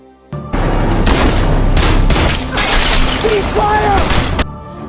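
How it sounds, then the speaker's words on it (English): A gunshot rings out in a film scene of a woman's revenge against a Mexican cartel, followed by a loud, dense roar of crashing, shattering and rumbling that carries for several seconds. "Riley, distrustful of the system, decides to fulfill her promise herself and shoots Garcia in the face."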